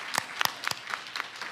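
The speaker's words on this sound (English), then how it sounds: "Let's give her a round of applause." Applause for a retiring school principal at an education budget forum, heard as a handful of sparse, distinct claps spaced across a short stretch, fairly faint and thin, like only a few people clapping.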